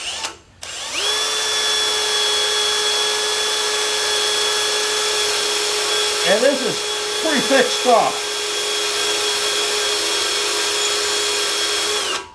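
A power drill whines steadily at a constant pitch for several seconds, a dull drill bit spinning in the wrong direction grinding into material, while someone briefly talks over it midway.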